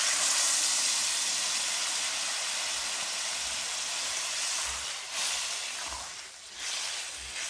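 Boiled Malabar spinach, cooked with turmeric and salt, hits a hot frying pan and sets off a steady, hissing sizzle that stays loud and even throughout, swelling briefly near the end.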